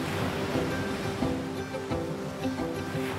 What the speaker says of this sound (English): the best music is the sound of these waves pounding on the shore